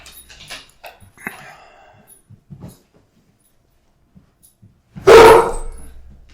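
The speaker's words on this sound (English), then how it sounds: "That is a dog coming downstairs." A pet dog moving around a home gives a few faint whimpers and soft shuffles, then lets out one sudden loud bark near the end.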